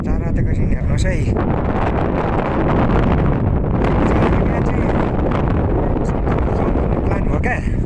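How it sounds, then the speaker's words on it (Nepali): Strong cold wind gusts across an open mountain area near the India–Nepal border around Sandakphu, roaring steadily against the microphone throughout, close and loud, with a person speaking faintly under the buffeting. "सिरेटो हावा चाहिँ कति साह्रो चलेको यो ठाउँमा"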